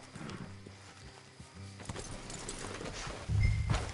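Horse hooves clip-clop at a walking pace amid outdoor ambience in the video game Red Dead Redemption 2, followed by a louder low thump near the end; no one speaks.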